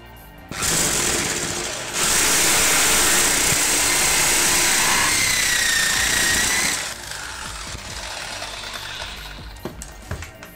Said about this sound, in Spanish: así que ahora vamos a hacer uso de la corona. Ahora yo voy a utilizar pues un taladro un poquito más potente.